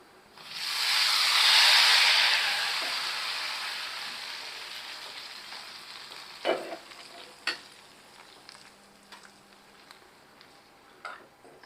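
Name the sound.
sizzling tempering added to raw mango rasam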